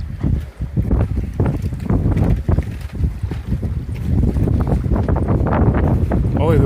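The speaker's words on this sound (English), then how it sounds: "the wind just got stupid" Strong wind blasts across an off-grid island, a loud, continuous buffeting roar hitting the microphone, with people talking through it.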